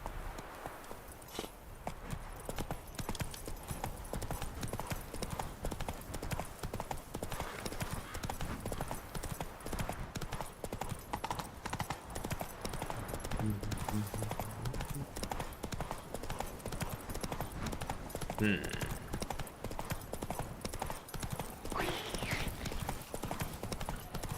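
Hooves pound steadily as a horse gallops in the fantasy game The Witcher 3. The rapid, rhythmic clatter is close and continuous over a constant rushing background, with a faint bit of speech midway.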